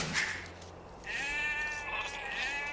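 Sheep bleat in Age of Empires 2 Definitive Edition, two or three clear wavering bleats close up over soft game ambience, with no voices.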